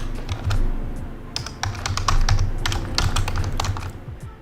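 Rapid, uneven clatter of keys on a computer keyboard, close and fairly loud, typed in short bursts with brief pauses and no voices.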